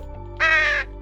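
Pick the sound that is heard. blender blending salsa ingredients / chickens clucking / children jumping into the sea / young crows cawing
young crows cawing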